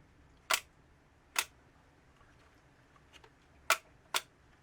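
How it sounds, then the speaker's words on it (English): A shutter on an old film camera that takes 620 film clicks four times, crisp isolated snaps close up in a quiet room, two close together early and two more near the end. "here's the shutter on this one."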